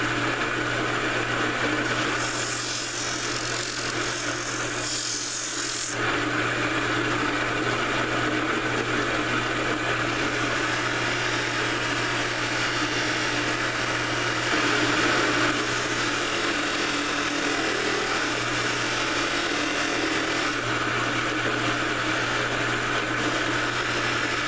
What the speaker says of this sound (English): Now this little wheel here I don't use any compound on it, I just use it for the finish polishing.